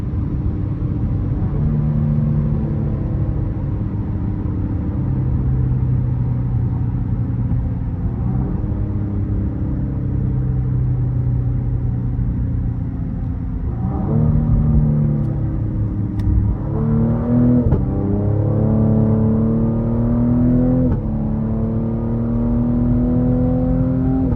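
Cadillac CT5-V engine on a late-night drive, a steady loud rumble with rising rev blips as it downshifts through the paddles near the end, heard from inside the car with no talking.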